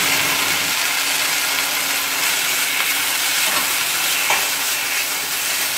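Minced pork frying in a pan while being stirred, a steady loud sizzle with scraping stir noises throughout, close up and with no talking.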